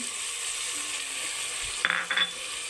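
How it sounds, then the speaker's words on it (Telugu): Onions and tomatoes stirred into a masala of chili powder, turmeric, salt, coriander and coconut powder in a pan for black-eyed pea curry. It gives a steady close sizzle, with a short burst of spatula clatter near the end. "టమోటాలు వేసి బాగా అన్నీ మిక్స్ చేసుకుందాం."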